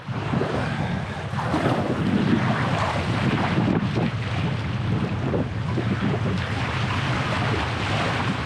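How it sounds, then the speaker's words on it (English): Loud, continuous roar of whitewater on the Dog River rushes around a paddled boat, a dense close wash of churning rapids with no talking. "And look at that, we're starting off with a rapid."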